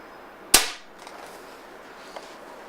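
A single shot from an Air Arms S410 TDR .22 caliber air rifle gives one sharp, loud crack that decays quickly, followed by near silence with a couple of faint small clicks.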